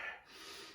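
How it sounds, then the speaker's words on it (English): A single deep breath drawn in sharply and close, taken during a primary school PE workout, a brief audible inhale that trails into a soft exhale. "Let's take some deep breaths"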